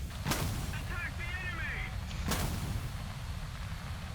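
A missile launched at the player's jet in the War Thunder combat flight game, heard as two sharp, loud bangs about two seconds apart over a constant low engine rumble, with a brief warning tone between them.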